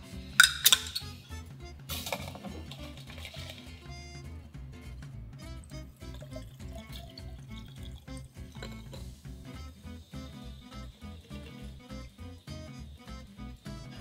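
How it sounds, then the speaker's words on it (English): A Tom Collins is strained from a cocktail shaker while soda is poured in, giving a continuous run of clinks and rattles of ice against metal and glass, with a sharp clatter near the start and no talking. "We're going to strain and we're going to pour in our soda at the same time."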